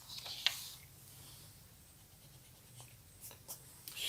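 A pen scratches a line across graph paper, a faint close scraping stroke with a few light taps in a quiet room.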